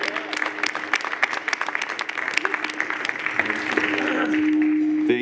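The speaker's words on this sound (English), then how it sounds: "Huge round of applause." An audience applauds Matty White after a Q&A session on a talk show, dense clapping running steadily through the whole stretch and swelling slightly toward the end, with a faint tonal hum underneath.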